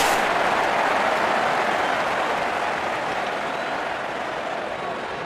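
A large cricket stadium crowd applauding and roaring at a T20 World Cup semi-final between India and England, a dense, loud, continuous wash of clapping and cheering that fades slightly toward the end.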